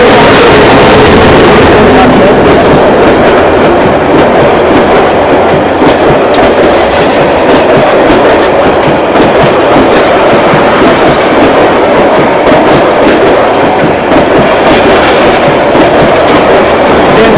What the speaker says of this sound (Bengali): সামনে এই লাইনটা দিয়ে আরেকটা ট্রেন আসতেছে